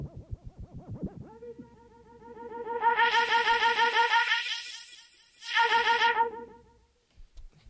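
Echo effect on a Reloop DJ mixer, with a tonal sound repeating and trailing off in stacked echoes after a few rhythmic hits, swelling, pausing, then returning in a second burst before fading.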